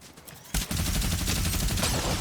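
Shotgun fire in Fortnite, a sudden loud blast after a quieter moment, followed by a rapid burst of shots and rattling impacts that continues to the end.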